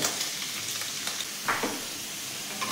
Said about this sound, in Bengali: হালকা করে পনিরগুলো ভাজবো